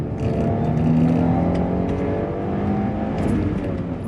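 A Peugeot 406 Coupé V6 revs hard while driving, its engine note climbing and shifting in a sustained, loud snarl heard from inside the car, with no talking over it.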